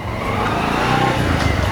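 A motor vehicle engine runs nearby with a low, rough rumble, rising slightly as if revving, loud and close with no speech over it.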